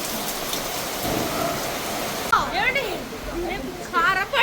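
Heavy rain with thunder in a village pours as a loud, constant wash, with a low rumble beneath it, while a person talks over the downpour in the second half.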